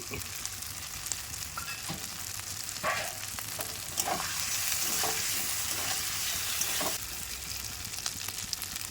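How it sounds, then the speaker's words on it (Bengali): Chicken masala with chopped tomato stir-fried in a pan, a continuous moderate sizzle broken by repeated spatula scrapes and clinks at an irregular pace. "সব কিছু ভালো করে কষে নেব দিয়ে দেবো টমেটো কুচি"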